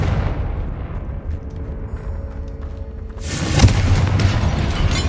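A Confringo fire spell blasts in the Hogwarts Legacy game inside a tomb, a sudden loud boom that cuts through a quiet, low ambient hum and leaves a rumbling, crackling tail.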